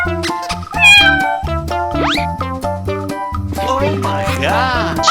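Cartoon cat meows from a 3D animal slide game, several bright meows and a rising boing-like effect over busy, loud game music, with no talk.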